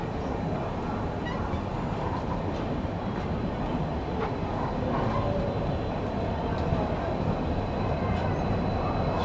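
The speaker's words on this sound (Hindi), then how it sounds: "बिना रुके अपनी सिकंदराबाद दुरंतो ने स्किप कर दिया इटारसी जंक्शन को" The Secunderabad Duronto Express running through Itarsi Junction without stopping, with a steady, close rumble of wheels and carriages that stays continuous and moderately loud, and faint honk-like tones in the background.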